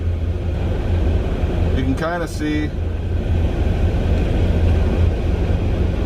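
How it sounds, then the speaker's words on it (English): Strong wind gusts of 50-plus mph driving a dust storm roar steadily near the microphone in open country between Las Vegas, Nevada and Tolleson, Arizona, a dense buffeting rumble that persists throughout while someone speaks briefly over it. "the dust storm out there. That just blew through here. And it's continuing to blow through here."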